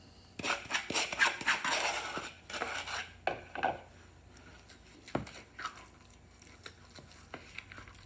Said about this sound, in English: Now I'm mixing my yolks with my granulated sugar